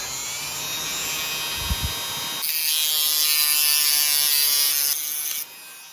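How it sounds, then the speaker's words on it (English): A small rotary tool's cutting wheel slices through a metal bar on an HO scale steam locomotive kit, a high whining buzz that rises sharply partway through as the wheel bites, then cuts off near the end. "Now I'll just cut out this bar and I'll use the uh, cutting wheel to do it."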